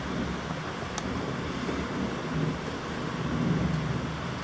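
Strong evening thunderstorm over Łowicz, steady heavy rain hiss with low rumbling thunder rolling continuously in the background.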